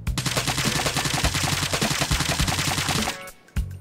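Rapid bursts of KN-44 rifle gunfire in Call of Duty, loud and close, a sustained automatic string that cuts off near the end, followed by a single short shot.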